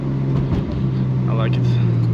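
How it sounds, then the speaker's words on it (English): An R33 Nissan Skyline's RB25T engine fitted with an HKS air intake drones steadily with a low, constant hum and intake suction. A person talks over the engine noise throughout. "A lot of suction noise going on, but I don't know if I hear turbo much, but I do hear a lot of sucking."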